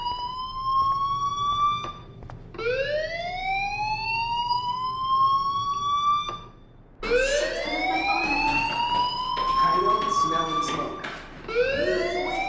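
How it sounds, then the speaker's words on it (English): A fire alarm in the video game Life is Strange sounds as repeated rising electronic wails, loud and close, each sweep climbing and holding before restarting, with some overlapping tones and background clatter. "Hey, do you hear that fire alarm?"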